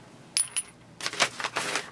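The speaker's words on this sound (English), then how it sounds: "I'm using some industrial brass bolts for my pattern weights here." Industrial brass bolts set down as sewing pattern weights on fabric, two sharp metallic clinks close together, followed by a longer run of softer shuffling, clattering contacts.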